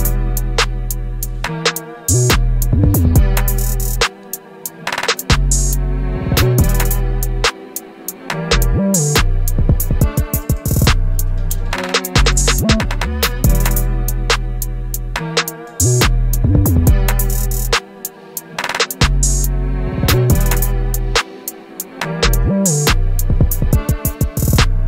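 A UK drill beat plays with deep bass, punchy drums and hi-hats, and re-reversed piano samples, loud and continuous with short drops in rhythm.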